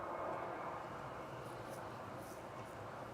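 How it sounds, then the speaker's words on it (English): An Ethiopian Airlines A350 taxiing at Manchester Airport, heard from a distance as a steady, faint, broad engine rumble and hiss with no clear changes. "We've got the Ethiopian A350 taxiing out."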